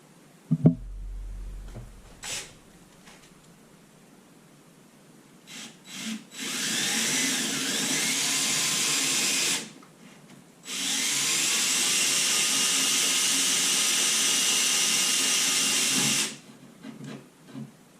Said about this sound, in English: Just breaking the surface all the way through the plasterboard.